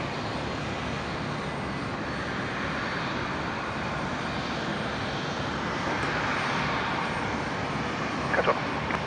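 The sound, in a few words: Qantas Link Embraer jet taking off from runway 01 right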